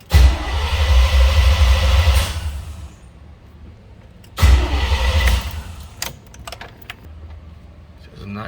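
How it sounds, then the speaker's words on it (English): A Chevrolet C10 truck engine with a weak battery and no power to the coil cranks in two long whirring bursts without catching, separated by a pause, loud and close. "Says I'm not getting any crank."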